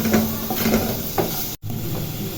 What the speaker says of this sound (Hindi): अभी अच्छी तरह इनको फ्राई कर लेते हैं।